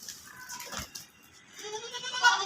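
A goat bleats at a livestock market selling home-bred goats and cattle, with a short nasal cry and another wavering bleat near the end over quiet background noise.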